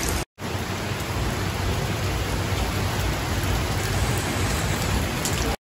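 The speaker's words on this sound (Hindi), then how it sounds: "ये देखिए एकदम तूफानी तेज बारिश हो रही है।" Heavy, stormy rain pours down in Shimla as a dense, loud, unbroken hiss with no voices, cut off by brief silent gaps at the very start and end.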